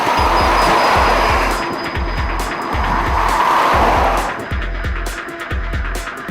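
A BMW 320d with a 2-litre diesel engine runs with a gruff, rhythmic low-pitched clatter. The loud, steady sound carries hissy noise on top and no voices.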